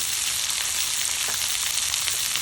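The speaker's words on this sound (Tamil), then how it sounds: "வெங்காயம் போட்டு வதக்கி கொள்ளுவேன்." Onions sauté with chillies and curry leaves in a hot pan, giving a loud, continuous close sizzle without any talk.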